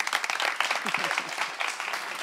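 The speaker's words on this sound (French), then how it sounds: "Merci bien, on l'applaudit." An audience applauds steadily at a French-language talk show, dense clapping filling the room while a voice speaks briefly over it.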